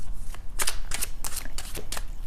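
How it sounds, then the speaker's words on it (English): A deck of tarot cards is shuffled by hand close up, giving quick repeated riffling and flicking bursts in an uneven rhythm over a low background hum, with nobody speaking. "I am shuffling the cards"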